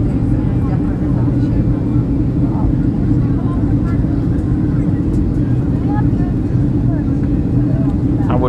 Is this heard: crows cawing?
no